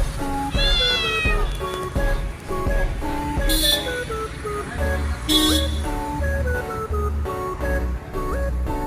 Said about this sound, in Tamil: அங்கே பாரு, பூனை பூனை மியாம் மியாம் பூனை